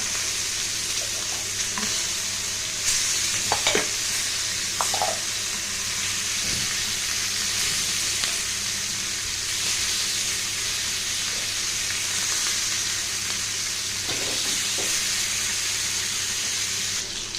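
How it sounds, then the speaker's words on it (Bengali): Ilish fish coated in salt and turmeric fries in a kadai, giving a steady close sizzle and crackle throughout with a few brief sharper pops and spatters. "তো এই দেখো মাছটা ভাজা বসিয়ে দিয়েছি"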